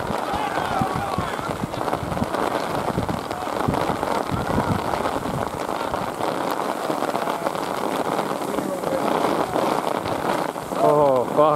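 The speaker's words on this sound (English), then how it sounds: "Fucking hell, that rain" Heavy rain pours down steadily over an outdoor football match, a dense hiss of drops on surfaces throughout, with players' shouts and talk breaking through the downpour.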